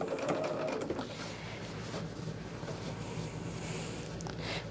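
A sewing machine runs steadily while pieces of a scrap quilt are joined, a continuous close mechanical whir with no talk over it.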